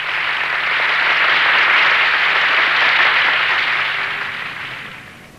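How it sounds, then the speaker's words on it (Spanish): A theatre audience greets a debutante performer with a broad wash of applause that swells, holds steady and then fades. The sound is smooth and diffuse, like a distant crowd. "Un gran aplauso."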